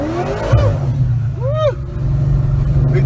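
A Chevy box car with an LSA engine accelerates hard, its loud, close engine roar rising and falling in pitch as it pulls, heard from inside the car, with a voice briefly over it.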